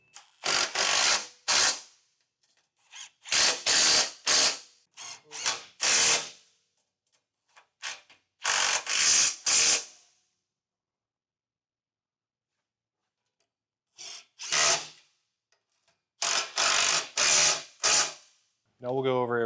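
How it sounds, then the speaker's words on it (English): A ratchet with a 13mm socket tightens Westin Grate Step running boards to their brackets on a 2025 Ford Explorer, giving several quick bursts of close, sharp clicking separated by short pauses and a longer quiet gap. "we can tighten down the running boards to the brackets with a 13mm socket"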